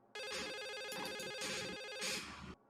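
An old-style telephone rings inside the video game The Suicide of Rachel Foster, with a continuous trilling electronic bell that swells in a few pulses and then stops abruptly.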